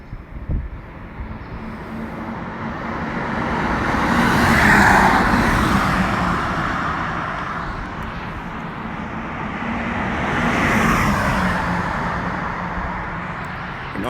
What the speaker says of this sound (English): I believe the cars will be coming from this direction